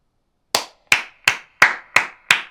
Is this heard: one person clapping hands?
yes